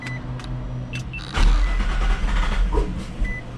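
An 800HP Infiniti G35 coupe cold-starting: a short quiet lead-in, then the engine catches loudly and settles into a deep, rough, steady rumble close by.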